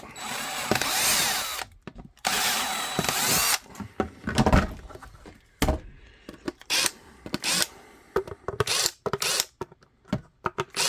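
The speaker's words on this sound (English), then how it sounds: "It's time for a new 1/4 inch drill bit." A power drill fitted with a 1/4 inch drill bit, used while making a clear ID holder for a vest, whirs in repeated short loud bursts separated by pauses, the later ones quicker and choppier.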